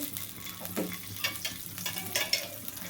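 Butter melts in a hot kadai for paneer butter masala, giving a soft, uneven sizzle broken by a few sharp scraping and stirring clicks close by.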